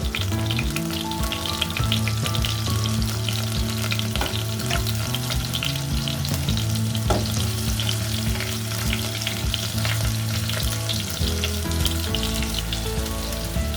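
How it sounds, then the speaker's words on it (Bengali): Chopped garlic fries in mustard oil with a steady, close sizzle and crackle, occasionally stirred, continuous with no talking. "রসুনগুলোকে আমি সরিষার তেলে ভেজে নিচ্ছি, লাল করে একটু ভেজে নেব।"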